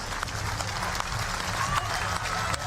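A crowd applauds athletes at the Berlin 2018 Hyundai Archery World Cup recurve finals: steady, dense clapping that fills the whole stretch without a break.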